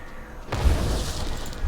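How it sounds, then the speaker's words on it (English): Explosions go off in a World of Warcraft-style fantasy video game set in the Southern Barrens, with a loud, sustained booming rumble bursting in after a quiet half second and rolling on without pause. "Explosions."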